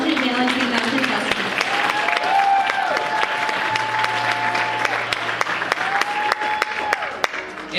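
At an awards ceremony, the crowd applauds male and female pageant contestants with continuous, lively clapping, sharp individual claps cutting through, while a steady tone hums underneath.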